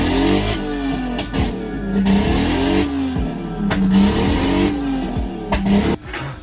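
A Toyota GS300 with a 2JZ engine, running rough on dirty fuel injectors, revs loudly and close up in a series of repeated throttle blips with surging, falling engine pitch.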